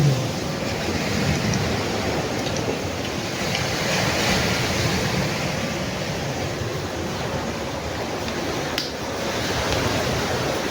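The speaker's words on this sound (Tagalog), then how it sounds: "Kaya hampas ng alon yung karamihan maririnig nyo rito." Constant roar of ocean waves crashing nearby on a Batangas beach, a dense wash of surf with no pauses and no voices.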